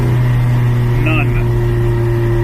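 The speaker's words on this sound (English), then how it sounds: "That's full throttle. And I am not going anywhere." A vehicle engine held at full throttle while it has lost its power, droning loudly and steadily close by. A brief voice-like chirp rises over it partway through.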